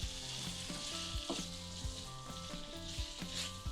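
Peppers and zucchini sizzle in a pan, a steady frying hiss broken by repeated stirring scrapes, close and moderately quiet with no talking.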